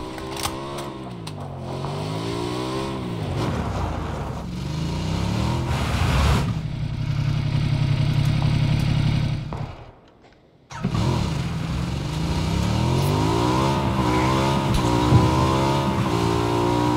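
Motorcycle engine in the PUBG video game, loud and close, revving and shifting pitch as the bike accelerates and slows, cutting out briefly before roaring back steadily.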